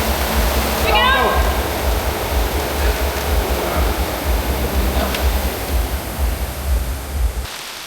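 A river running high after heavy weather roars as a loud, steady broadband rush of water that fills the whole clip, with a brief voice near the start.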